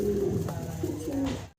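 Grey-barred Lahori pigeons coo close by in a few low, rolling calls. The sound cuts off abruptly at the end, and no one speaks.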